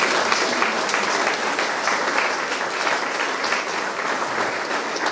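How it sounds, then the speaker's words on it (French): Sustained applause from an audience at a municipal gathering in Labenne, a dense, even patter of clapping lasting several seconds, fairly loud and without talk. "je vous prie de les applaudir parce qu'il fallait le faire."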